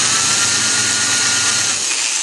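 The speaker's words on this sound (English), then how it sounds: "so I'm just going to drill it" A power drill whines loudly and continuously up close, grinding steadily into the metal hood of a Jeep Wrangler YJ before easing slightly at the very end.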